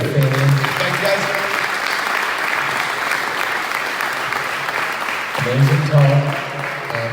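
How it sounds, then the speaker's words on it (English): Sustained applause from a tech meetup audience after a talk, a broad, even roar of clapping, with someone speaking over it at the start and again near the end. "A big applause again for PIETRO GORGAZZINI"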